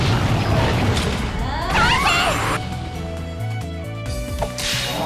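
Whip finishing attack in Digimon World: Next Order, a loud burst of swishing and crashing effects over game music, fading into quieter music with a few small hits.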